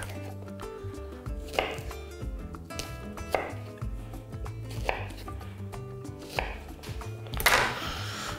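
A knife chops garlic cloves on a board in a quiet kitchen, giving a series of crisp, irregular taps spaced about a second or two apart, close and fairly soft, with no speech.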